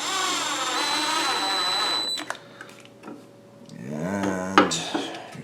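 A power driver sinks a screw into a very thick 7.5 plate, giving a steady high whine for about two seconds, then a pause and a second, lower grinding burst near the end.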